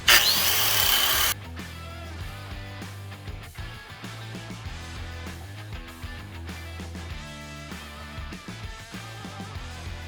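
A 4.5 inch angle grinder fitted with a shaping disc rounds over the live edge of a wooden slab. It starts with a loud, harsh burst of grinding for about a second, then gives way to a steady, quieter drone that keeps running.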